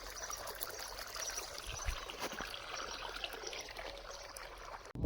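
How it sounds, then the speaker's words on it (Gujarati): Irrigation water runs steadily into a cotton field, a continuous close trickling and gurgling flow that holds throughout, with a brief louder splash near the end. "કરી નાખ્યો કપાસમાં પાણી ચાલુ"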